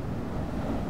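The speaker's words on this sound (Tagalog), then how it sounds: "tingnan nyo yung mga alon dito, ang laki oh" Large ocean waves surge at Sual, Pangasinan, a steady broadband roar of surf mixed with wind buffeting the microphone, loud and continuous with no pauses.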